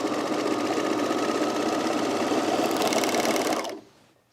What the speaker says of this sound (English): we're gonna do our shoulder seams first. And I'm just using a 4-thread overlock.